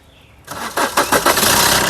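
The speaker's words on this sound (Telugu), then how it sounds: "సింగిల్ సెల్ఫ్లో కార్ స్టార్ట్ అవుతుంది" A 2016 Maruti Suzuki Vitara Brezza ZDI diesel engine cranks briefly and catches on the first try, rising into a loud, close, steady idle.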